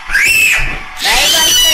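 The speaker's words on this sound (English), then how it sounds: "Now you gotta scream." A person lets out two loud, high screams back to back, each lasting under a second, close and raw, with a short dip between them.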